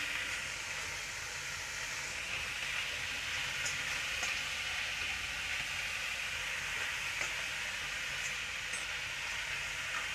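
Finely chopped vegetables frying for fried rice in a pan over a very high flame, a continuous dense sizzle and hiss holding steady and fairly loud with no speech over it.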